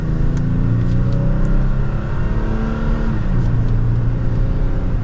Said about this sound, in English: We'll pop it over to the manual setting now, go to second gear, and give it a little bit of gas.